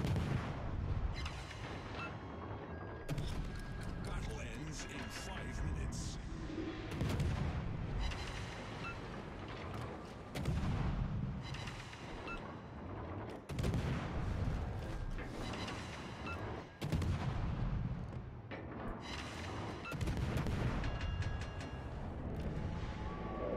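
Dense, continuous gunfire and booming artillery on a World War I battlefield in the Somme game, with heavy blasts layered over rattling shots throughout, loud and close with no talking.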